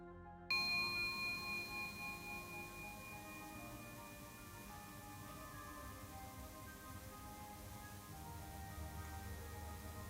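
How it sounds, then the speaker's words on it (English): A single bell strikes once with a clear ringing tone, then its resonance hums and slowly fades over several seconds. "focus your attention on the sound of the bell and nothing else"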